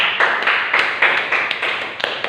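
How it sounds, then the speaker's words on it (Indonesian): A classroom of students claps for a presenter during a physics lesson, producing a brisk burst of sharp, uneven hand claps that continues steadily for a couple of seconds at close range. "Kita beri aplaus untuk Mbak Rika."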